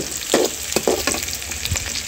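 Tomato masala with turmeric and salt frying in a pan gives a loud, close crackle and sizzle, with a few quick stirring scrapes and no talking.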